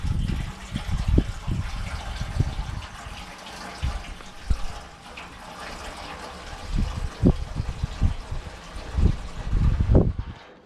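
Evapo-Rust sloshing inside a rusted 39-year-old metal fuel tank, a series of low, uneven liquid swishes and knocks that come in irregular bursts, close and moderately loud with no talking.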